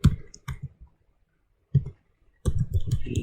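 Someone types C++ code on a computer keyboard in a few quick bursts of close, crisp key clicks, with short pauses of silence between the flurries.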